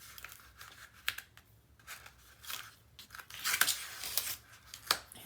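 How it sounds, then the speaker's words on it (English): Tape peeled and torn off a Stamperia Sir Vagabond in Fantasy World craft build, with crinkly ripping and crackling bursts in irregular pulls, close and fairly quiet, no talking. "I'm going to take the tape out."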